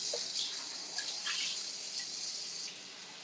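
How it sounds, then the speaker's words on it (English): Tap water runs steadily into a sink while a bowl is rinsed, a continuous close hiss with small splashy changes and no talk. "I'm gonna rinse out this bowl."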